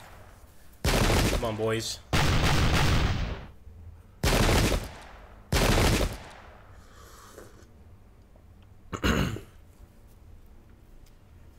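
Musket volleys fire from Vinegar Hill in the Pike and Shot video game, set during the 1798 Irish Rebellion. Four loud, crackling volleys come in quick succession, then a fainter fifth one, with a brief voice heard between them.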